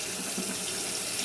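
Tap water running steadily into a container while mixing baby squirrel formula, a constant close hiss and splash with no pauses.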